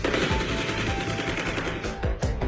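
Rapid bursts of gunfire crackle at a distance during an armed robbery in Campinas, São Paulo, a dense rattling volley followed by a few sharper separate shots near the end.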